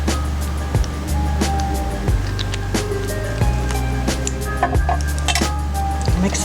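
A utensil scrapes and clinks steadily against a bowl while black food coloring is mixed into cupcake frosting, repeated close knocks and scraping strokes with no talking.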